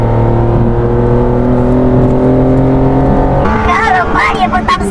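A BMW M3 E46 engine drones steadily from inside the car at around 60 km/h, a loud, constant low hum with a shift in tone near the end, while people talk over it.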